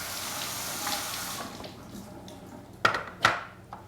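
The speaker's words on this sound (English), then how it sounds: "I'm going to rinse this." Kitchen gadget part rinsed under a running tap, water splashing steadily and then fading, followed by two sharp clatters of plastic against the sink near the end.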